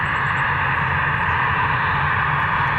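A Cessna Citation business jet taxies at an airport, its engines giving a steady, loud whine and roar that holds unchanged throughout, with no voices.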